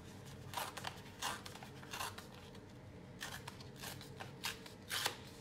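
Paper torn slowly by hand in uneven pulls, several crisp ripping bursts close by, separated by brief pauses, with no voices.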